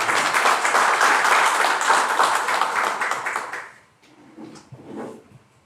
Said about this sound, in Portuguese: Ao padre, a nossa salva de palmas